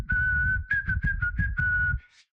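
A single person whistles a steady, high, clear tune for about two seconds, with a brief rising note at the end and no talking.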